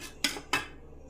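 A knife cuts through a soft, fluffy cake, giving two quick scraping strokes against a pan or plate in a quiet room.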